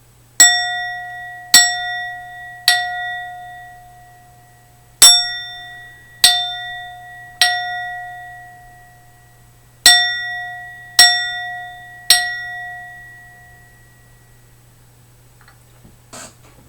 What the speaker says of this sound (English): It's not a bell, but a dong, a bowl.